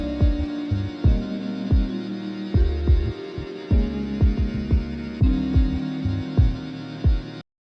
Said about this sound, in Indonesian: maka kita bisa mendengarkan daripada musik yang dibuat oleh FL Studio itu